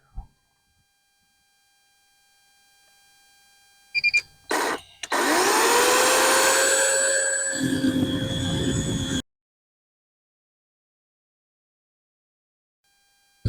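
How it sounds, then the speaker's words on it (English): A Greenworks 80-volt battery chainsaw gives a couple of short bursts, then a loud, steady electric motor whine for about five seconds, then cuts off abruptly into silence. "I've got my Greenworks 80 volt battery operated power saw, chainsaw that I'm using"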